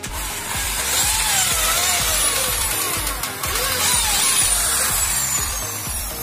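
Power drill driving screws into an aluminium mosquito mesh door frame, loud close whirring bursts repeating in quick succession with rising and falling motor pitch, no talk.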